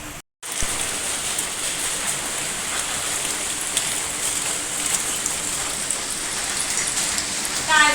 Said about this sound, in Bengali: আজকে সকাল থেকে আজকে না কয়েকদিন ধরেই হলো খুব বৃষ্টি